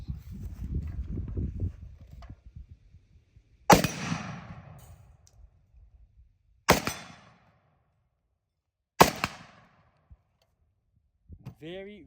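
A Zastava M77 rifle fires three separate loud, sharp gunshots, several seconds apart, each with a short echoing tail, after a stretch of low talk and handling noise; a voice starts speaking at the end.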